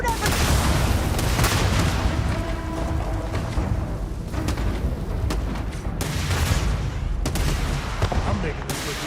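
Dense firefight in the video game Starfield: continuous loud bursts of gunfire and booming impacts overlapping, with a voice shouting amid the shooting.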